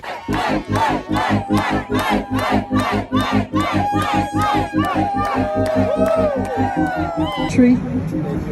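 A crowd chanting in unison at a cheer session during a border trip, loud rhythmic shouted bursts in regular beats, then looser cheering and voices near the end.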